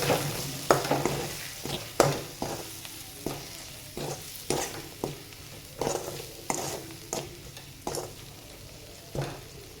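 Spiced paneer curry with peas, salt and chili powder being stirred in a pan, with repeated scraping spoon strokes at an uneven rhythm over a soft background sizzle, close and moderately loud.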